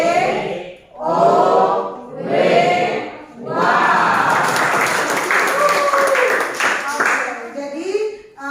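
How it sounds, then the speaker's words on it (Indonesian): A school class performs the 'tepuk wow' clapping chant, with rhythmic group claps and children's voices chanting together in loud bursts, first three short phrases and then a longer, busier stretch of clapping and shouting. "Oke, kita berikan tepuk wow."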